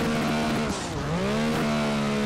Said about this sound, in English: So we're gonna go full send in Chris Forsberg's car.